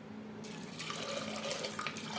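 Water poured from a tap into a pot of chickpea dal with coconut, a steady close splashing gush that swells louder after a brief quieter start.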